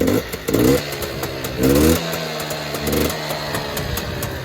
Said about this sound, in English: Sometimes when you return to idle, the clutch will make a little bit of noise.